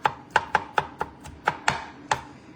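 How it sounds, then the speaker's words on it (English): Dill pickles are chopped with a knife on a board, giving about nine sharp, close taps in a steady, fairly quick rhythm with no voices. "And chop it."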